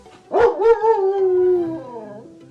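A dog lets out a single sustained howl, loud and close, starting with a sharp yip-like onset and holding a drawn-out wavering tone for about two seconds before trailing off.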